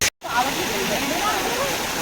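Continuous rushing and splashing of a water fountain in Smruthi Vanam park, a dense steady wash of falling water heard up close after a brief dropout at the start.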